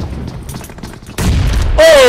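Explosions from a bomb landing on a whole enemy team in the battle royale game BGMI, loud booming bursts with rapid gunfire under excited talk, a sharp tonal alert at the end.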